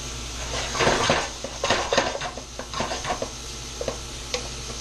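A wooden spoon scrapes and knocks against a pan in irregular strokes, with a faint sizzle of cooking onions underneath.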